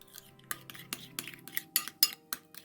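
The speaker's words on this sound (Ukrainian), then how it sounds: "І це все перемішую. Це у нас буде намазка на лаваш." Mustard spread for a shawarma lavash wrap being stirred in a bowl with a spoon, heard as a short series of close, bright clinks and taps against the bowl, irregular and getting a little louder toward the end, with no voice.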